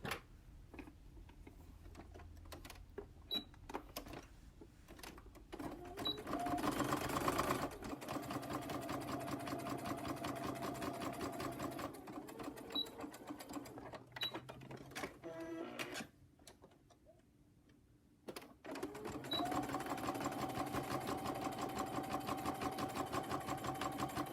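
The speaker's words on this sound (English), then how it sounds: "we're going to place the regular sewing foot back on your machine and sew the loop along both sides" A sewing machine with a regular sewing foot stitches a fabric loop along both sides onto a wristlet, running in steady mechanical bursts with a brief pause near the end, close and alone with no talk.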